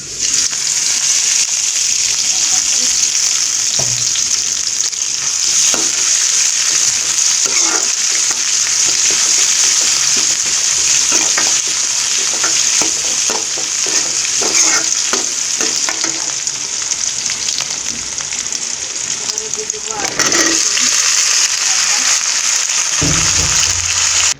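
Chilies fry in hot oil with a loud, continuous close sizzle and hiss that holds steady throughout, with faint stirring clicks underneath and a brief shift near the end.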